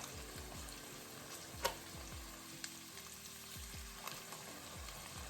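Onions and garlic sautéing in a pan, a quiet steady crackling sizzle with a few faint clicks of a utensil, alone with a low repeating background hum.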